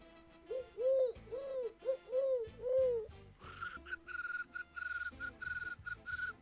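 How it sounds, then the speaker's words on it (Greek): An owl hoots a run of five rounded, evenly paced calls, followed by a quicker series of higher repeated notes, clear and close with no talk. "Ακούω την κουκουβάγια."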